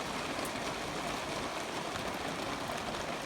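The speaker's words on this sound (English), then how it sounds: "Yeah, it's raining" Soft, even patter of light rain just starting to fall steadily on surfaces at a pasture with creek and ponds, a continuous hiss with occasional distinct drops, no voices.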